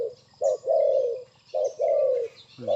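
Doves or pigeons coo in the morning, a close, loud bird repeating soft two-part calls in a steady rhythm with short pauses between phrases.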